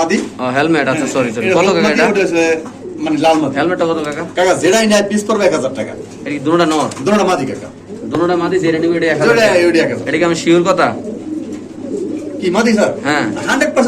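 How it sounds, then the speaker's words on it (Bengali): Red Nun pigeons coo among other birds at a pigeon market, the soft cooing running under almost continuous nearby conversation. "এখানে আছে একটা লাল নান কবুতর"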